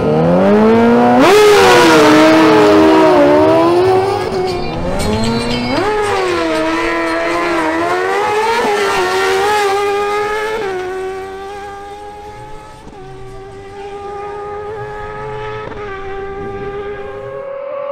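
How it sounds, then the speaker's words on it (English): Suzuki GSX-R600 motorcycles drag racing, loud high-revving engines screaming through rising gear changes, sustained and close, then settling into a steady drone as the bikes pull away. "we witness an exciting battle between two impressive Suzuki GSX-R600 bikes"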